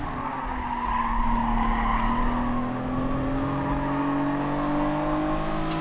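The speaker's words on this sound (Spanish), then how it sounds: "Me ha derrapado mucho el coche en la primera" A race car skids in Gran Turismo Sport on PS5, its tires squealing in a long sustained screech over a droning engine whose pitch slowly shifts, steady and loud without speech.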